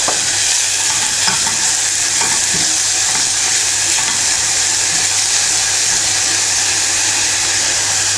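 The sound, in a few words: sweet peppers frying and caramelizing in pan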